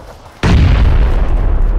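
Sudden loud boom from an explosion in the battle royale shooter PUBG, hitting hard after a quiet lead-in and followed by a long, dense rumbling decay with no speech.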